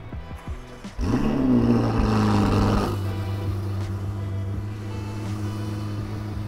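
A limited-production exclusive Ferrari fires up loudly after a second of quiet, its engine flaring with a rising rev before settling into a strong, steady idle rumble heard up close.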